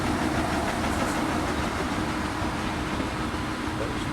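An Italian diesel train on the line toward Belluno rumbles steadily with a broad engine drone and faint rail clatter, continuous and moderately loud, no talk.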